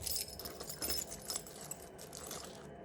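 Keys jangle and clink in quick bursts as they are dropped into a bag, quiet and close with soft metallic rattles fading out.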